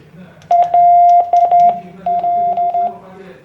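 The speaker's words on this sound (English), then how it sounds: "the radio will automatically transmit the corresponding Morse code" A TD-H9 handheld radio sends Morse code as a steady, loud mid-pitched tone keyed into short dots and longer dashes, clear and close, in two quick groups with a brief pause between.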